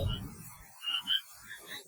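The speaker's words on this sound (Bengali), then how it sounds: "ব্যাঙের ডাক কানে আসতে বুঝলাম" Frogs croak beside a pond at night, several short faint calls spaced irregularly against a quiet background.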